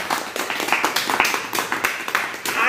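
Audience applause at the opening of a Republic Day (26 January) celebration programme, a steady wash of many hands clapping close by for a few seconds with no voices over it.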